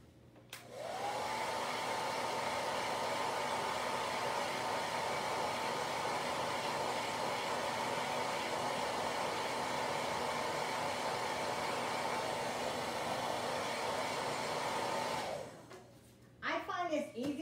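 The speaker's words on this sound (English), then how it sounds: "Let's hit at that with a blow dryer." A hair dryer switches on with a rising whoosh, blows steadily and loudly for about fifteen seconds, then cuts off as a voice starts talking.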